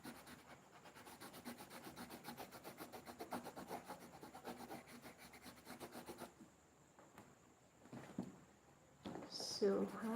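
A dull drawing tip is sharpened with a quick, steady rasping and rubbing for several seconds, close and faint, then stopping before a few scattered handling sounds.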